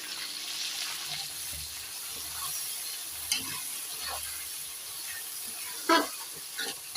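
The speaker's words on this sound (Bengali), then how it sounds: "এই পেঁয়াজ দিয়ে এটা একটু ভালো করে ভেজে নিই।" Onion fries in mutton fat in a pan with a steady, quiet sizzle, broken by a few soft stirring scrapes and clinks.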